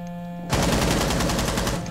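Rapid automatic gunfire in a competitive video game match, a dense burst of evenly spaced shots that starts abruptly and keeps firing loud and close for over a second.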